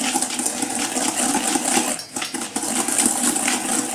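Brown sugar being mixed into egg yolks in a bowl for raspberry tiramisu, a continuous clattering, scraping whisk-against-bowl sound, close and fairly loud.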